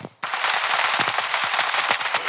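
Rapid automatic gunfire in a video game, a dense continuous burst of sharp cracking shots that starts abruptly and keeps going loud and close, with no talking over it.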